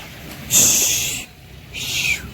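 A rescued owl gives two harsh, hissing screeches, the first longer and louder, the second shorter after a brief pause, close and fairly loud against faint background noise.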